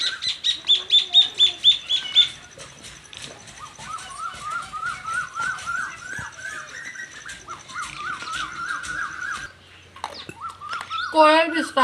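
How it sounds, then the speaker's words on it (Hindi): Asian koel calling outdoors in a village setting, a repeated rising whistled call in a steady series, fairly clear and close, following a run of other bird chirps and alongside scattered background noises. "कोयल भी स्टार्ट हो गई है।"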